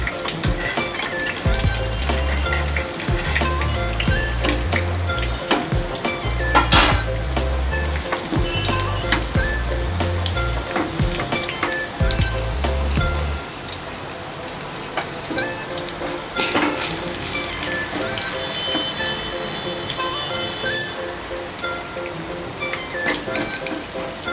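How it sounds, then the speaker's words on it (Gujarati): Sabudana vadas shallow fry in a pan with a continuous crackling sizzle and scattered spitting pops. A low droning hum sits underneath during the first half and then drops away, leaving the frying alone. "આપણે સેલો ફ્રાય કરી રહ્યા છીએ"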